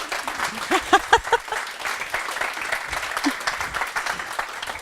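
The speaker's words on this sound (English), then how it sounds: "Can we have a round of applause, please?" A burst of applause from a small crowd, scattered clapping with a few voices mixed in, fairly close and moderately loud.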